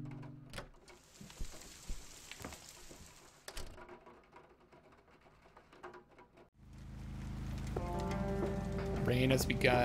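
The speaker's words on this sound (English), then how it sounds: "Rain has begun." Rain begins in the adventure game Kathy Rain: after quieter game sounds, a steady, loud hiss of rainfall sets in abruptly and keeps building, with tonal game sounds layered over it.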